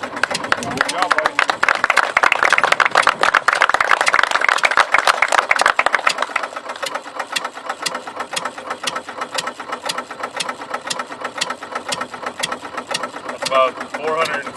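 A Ford engine runs at roughly 475 RPM in a school engine project, a steady mechanical clatter with regular ticking strokes, louder over the first six seconds and then settling into an even idle.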